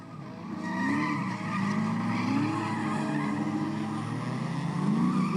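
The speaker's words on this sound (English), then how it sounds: "Cassandra spinning around, some donuts going everywhere" Cars doing donuts and burning rubber at a raceway produce continuous loud tire squeal and skidding, with engines revving and wailing pitch sweeps throughout, no talk.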